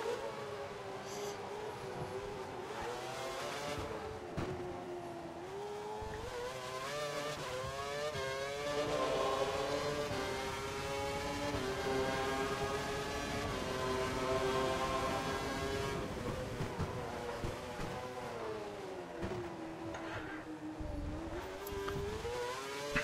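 A Formula 1 racing car in the F1 2012 video game is driven with traction control during practice at Monaco. Its high-pitched engine howls continuously under throttle, rising and falling through the gears and corners, with no one talking.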